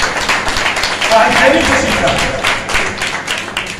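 A church congregation breaks into clapping, the applause rising and fading in the middle while a preacher keeps speaking over it.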